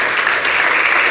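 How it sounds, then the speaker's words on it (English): Dense applause from a conference audience at a Bitcoin and blockchain summit in Malta, a steady wash of many hands clapping at once, loud and continuous with no talking. "Let's have a round of applause."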